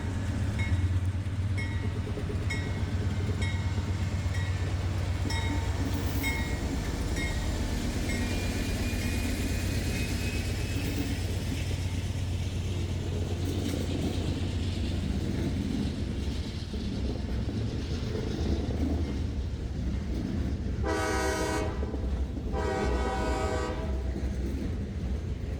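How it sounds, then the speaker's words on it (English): A short freight train carrying incinerator ash rumbles steadily past near the historic B&O station at Point of Rocks, wheels and cars droning, with a horn sounding briefly near the end. "This was a short ash train from the Montgomery County incinerator."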